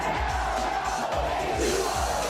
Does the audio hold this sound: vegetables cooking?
no